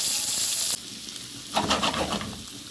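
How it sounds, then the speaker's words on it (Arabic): Onion hits hot oil in a pan while meat and okra are being prepared, a loud hissing sizzle that drops sharply, then swells again with stirring scrapes and crackles, close by. "هنزل دلوقتي بالبصل وهقلبه كده زي ما احنا شايفين"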